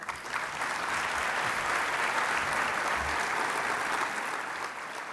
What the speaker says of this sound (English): Let's give him another nice round of applause